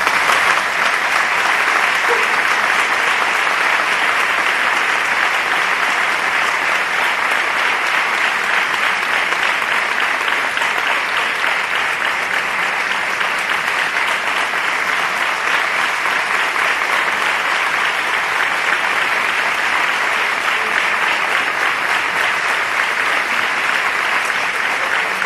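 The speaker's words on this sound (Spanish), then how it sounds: "Yo pido para ellos, por favor, un fuerte aplauso." A large audience at a San Juan de Dios ceremony gives a strong, sustained round of applause, dense steady clapping that fills the hall evenly and continues without a break for the full length.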